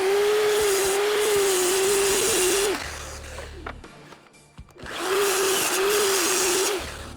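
A miter saw cuts a 12.5-inch crosscut in wood with a stop block: the motor whines loudly and steadily, winds down and pauses as the blade passes through, then spins up loud again.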